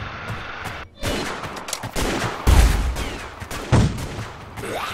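Loud, rapid gunfire from the video game Orion: Prelude fills the clip as players shoot dinosaurs, with repeated overlapping bursts and heavy booming impacts.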